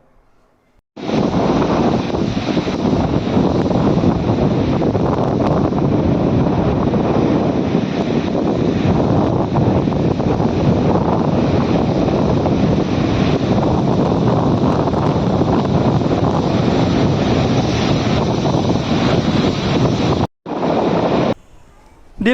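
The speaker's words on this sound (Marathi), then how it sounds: "रत्नागिरीतील मिऱ्या मांडवी भाटे आदी समुद्रकिनारी उंच उंच लाटा पाहायला मिळाल्या" High sea waves and strong wind on the Ratnagiri coast at Mirya, Mandvi and Bhate beaches, a loud continuous roar of surf mixed with buffeting wind on the microphone, briefly cut off near the end.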